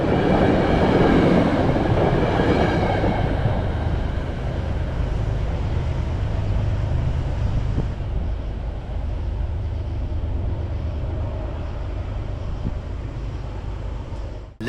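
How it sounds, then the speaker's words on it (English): Freight train 1894 hauls out of the Merit 7 station northbound, a loud, continuous rumble of engine and rolling wagons that holds steady throughout, with no voices. "Lugging train 1894 out of the Merit 7 station northbound towards Jamboree."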